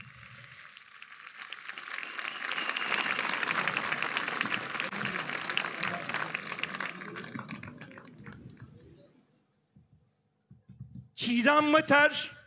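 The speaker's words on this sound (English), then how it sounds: "Let's have a big round of applause for Çiğdem Mater." A crowd at a commemoration event applauds steadily for several seconds, the clapping dense and sustained before fading out, followed by a voice starting to speak.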